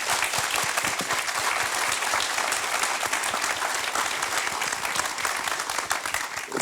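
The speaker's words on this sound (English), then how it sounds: "Please give a round of applause." A panel audience at a university centennial event gives a sustained round of applause, dense and even, many hands clapping continuously from start to finish.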